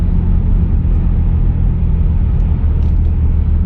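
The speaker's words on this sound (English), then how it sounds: "the exhaust sounds right" A BMW 325xi engine and exhaust idling smoothly after repairs, a steady deep low rumble with a constant drone, close and loud with no talk over it.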